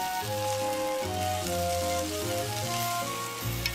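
Onions hit hot oil and are stirred while cooking a pumpkin and chicken simmered Japanese dish, giving a soft steady sizzle that runs under prominent background music.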